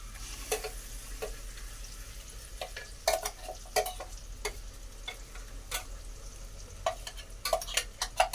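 Spices, ginger, garlic, green chili and onion fry in a pan, a soft continuous sizzle dotted with frequent sharp ticks and pops as the mixture is stirred, close up with no voices.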